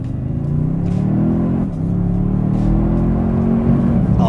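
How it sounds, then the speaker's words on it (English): A Toyota Sequoia TRD Pro's V6 engine plays a synthesized V8 sound through the cabin, a steady low rumble that swells as the SUV accelerates, close and loud throughout with no talking. "they do definitely pump in some V8 sounds just to make you think you're in a V8"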